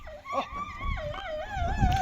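A new dog on a rural highland farm during the seasonal cattle move down from summer pasture gives drawn-out, wavering howling and whining calls, close and continuous over low outdoor rumble.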